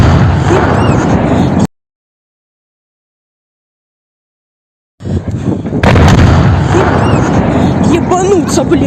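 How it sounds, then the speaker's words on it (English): A massive explosion in a village near Kharkiv comes as a loud, dense roar, broken by a stretch of total silence, then a sharp blast and heavy rumbling with shouting voices. "It's a massive explosion."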